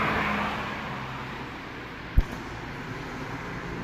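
An Alexander Dennis Enviro 200 bus pulls up at a roadside stop in Leeds, its engine a steady low rumble nearby with road noise and a single sharp knock partway through.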